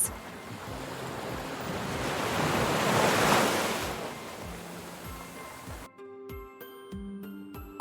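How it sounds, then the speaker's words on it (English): Ocean surf rolls in a steady wash that swells to a loud crest near the middle, then fades. A softer, tonal passage follows at the end. "Waves."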